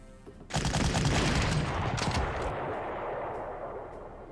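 A loud burst of gunfire in the WWII strategy game Panzer Corps opens abruptly with a sharp crack and a dense volley, then fades into a rumbling tail.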